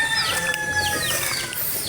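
Backyard chickens kept at a rural Filipino home cluck and crow, with several overlapping bird calls close by against light outdoor background noise.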